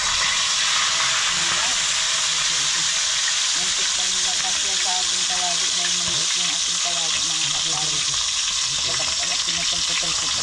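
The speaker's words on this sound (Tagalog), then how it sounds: "Kaya, simulan na natin magprito." Speared fish frying in oil in a pan, a loud, steady sizzling hiss throughout with bubbling crackles, and a voice talking quietly underneath.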